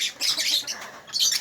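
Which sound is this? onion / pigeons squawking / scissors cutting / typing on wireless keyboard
pigeons squawking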